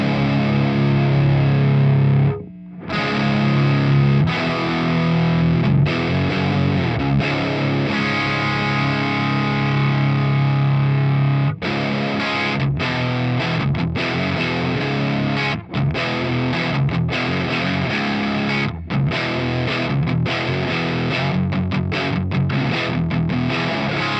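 Electric guitar played through a REVV Dynamis D40 amplifier on its channel 2 gain setting, producing a loud, continuous distorted tone with sustained chords and brief gaps.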